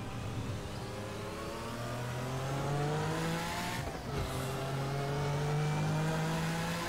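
Race car engine from the Assetto Corsa DRM Revival mod, a racing video game, revving loud and close, its pitch climbing steadily, dipping briefly at a gear shift, then climbing again, with no talking.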